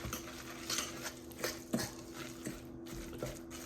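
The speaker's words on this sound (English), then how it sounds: "I'm going to give it a bit of a turnaround" Zucchini fritter batter stirred in a bowl, a soft run of close, quiet scrapes and light taps of utensil against the bowl, without talk.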